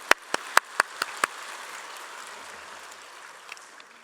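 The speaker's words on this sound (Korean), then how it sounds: "그렇게 역사하실 하나님께 영광의 박수를 올리도록 하겠습니다." Church congregation clapping in a Korean Wednesday prayer service, a short burst of several sharp, evenly spaced claps up front that quickly fades into a soft, hissing room ambience, with no talk.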